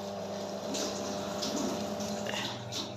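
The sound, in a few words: water being poured over potatoes in a pot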